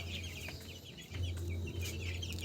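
Several chickens cluck close by in a quick, irregular back-and-forth during winter, with a low steady hum underneath.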